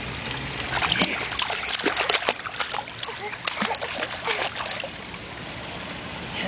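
A young child splashes while swimming, with repeated bright close splashes and churning water, and voices talk and call out over the water throughout.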